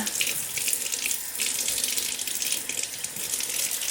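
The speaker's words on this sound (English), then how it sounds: "Now what I'm going to do is I'm actually going to turn on the water. It's going to be a little loud." Tap water runs loudly and steadily over the sole of an UGG sheepskin boot at a sink, a continuous close hiss and splash with no voices.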